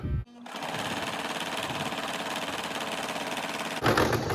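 Sewing machine running steadily as it stitches a fabric bag pocket, a fast even rattle lasting several seconds, then a brief louder burst as it reverses to backstitch at the end of the seam.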